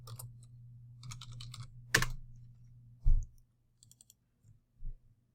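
Keyboard shortcut typing to copy, Control C, comes across as a quick cluster of close key clicks, then a sharper tap and a few scattered softer clicks with pauses between them, all in a quiet room.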